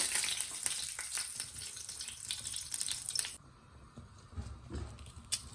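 Fenugreek seeds and curry leaves hit hot oil in a pan and fry with a steady, close sizzle that drops away sharply partway through, leaving quieter crackles.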